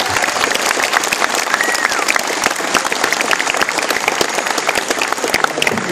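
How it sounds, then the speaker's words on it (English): Loud, dense applause from a large convention audience, a continuous wash of many hands clapping close and steady throughout, with faint crowd noise underneath. "I think that deserves a hearty round of applause"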